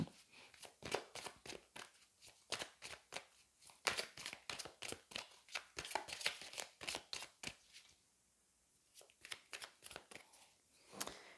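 Oracle cards are shuffled by hand in quick, crisp riffling bursts, close and fairly quiet, in a steady rhythm broken by one short pause before the shuffling resumes.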